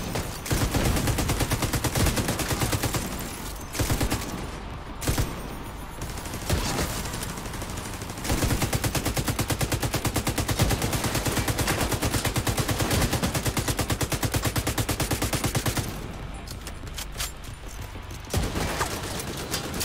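Sustained rapid automatic gunfire in The Division 2, with dense rattling bursts from several weapons and brief pauses between volleys, loud and close throughout.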